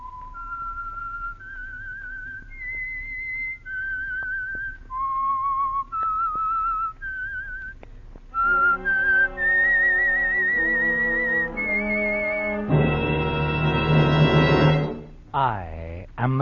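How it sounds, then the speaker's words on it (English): A melodic whistled theme opens a Signal Oil radio mystery program, starting as a lone clear whistle, then joined by full orchestral music and a foghorn-like tone that swell loudly before ending. "the signal to listen for is this whistle that identifies the Signal Oil program"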